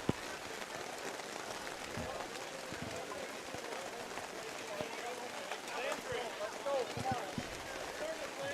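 Heavy rain comes down on a ball field during a July elimination game, a steady faint hiss with scattered taps and knocks, while people talk in the background.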